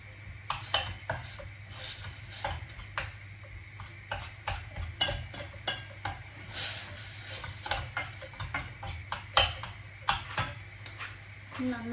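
Grated carrot halwa being stirred in a pan, with a spoon tapping and scraping the metal in a steady run of light clinks under a continuous talking voice.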